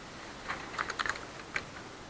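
Someone types on a computer keyboard, giving a quick, uneven run of soft key clicks close by over a faint background hiss, with no talking.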